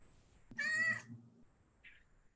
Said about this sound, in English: And your cat agrees with you.